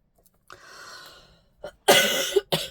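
A drawn-out breathy wheeze is followed by a few harsh, close coughs in quick succession, with brief pauses between them.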